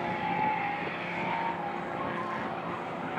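A silver Nissan R34 four-door race car with a turbo tune screams along a racing circuit during qualifying, a sustained high engine whine that is steady and fairly distant, with no talk.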